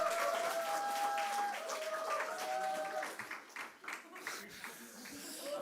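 Audience applause blessing a high school student at a church gathering for a Philippines mission team testimony: a voice over tonal sound at first, then scattered claps come through for the last few seconds.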